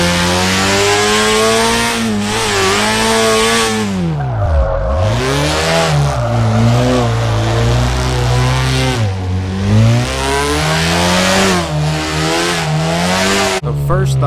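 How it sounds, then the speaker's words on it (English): Nissan S15 four-cylinder engine in the Drift21 video game revs loudly and continuously, pitch climbing and falling through repeated swells with one deep dip, as the car slides around. "Definitely sounds like a 4-cylinder."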